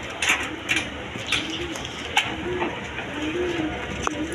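Gorra pigeons coo in soft, repeated low phrases amid faint rustling and wing flutters, close by, with no talking over them.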